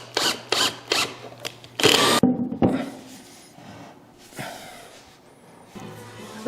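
A power drill whirs in several short bursts as greased screws are driven during assembly of an altar and pulpit, followed by quieter handling and rustling sounds.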